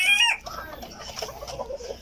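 USL breeder hens, white and black, cluck close by in a backyard coop, with a brief loud squawk at the start followed by softer scattered clucks.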